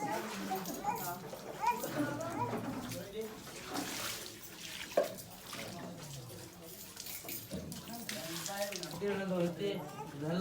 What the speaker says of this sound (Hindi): यहाँ से चश्मा है, पानी निकल रहे